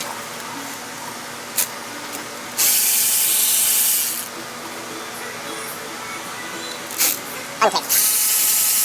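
A power tool or ratchet runs in a single sustained burst, removing bolts from the engine of a Chevy Express 2500 6.0, with short clicks and clatter around it and a brief spoken word.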